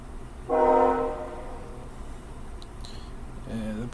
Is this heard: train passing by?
yes